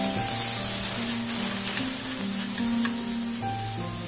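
Onion frying in a hot pan with tomato for betel leaf chutney, a steady close sizzle running without pause beneath soft sustained background music.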